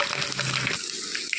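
Curry leaves and garlic cloves sizzle in hot oil for a gongura tempering, a short close crackle with a faint stirring scrape and no talking.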